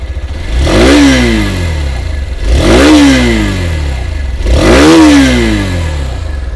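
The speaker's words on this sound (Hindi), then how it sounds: "बाकी एग्जॉस्ट साउंड जो है दोस्तों, वो मैं आप लोगों को एक बार सुना दूं" A 2024 Hero Xtreme 160R 2V Stealth Edition motorcycle revs three times in even succession. Each loud, close exhaust blare climbs and falls back to a rumbling idle.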